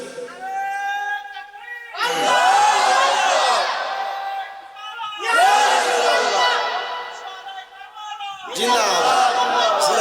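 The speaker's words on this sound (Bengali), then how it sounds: "একটা জোরে তাকবীর দিবেন" A large crowd at an Islamic sermon gathering roars a takbir in unison, three loud swelling bursts of massed voices, each following a single voice leading the call, echoing in an open setting.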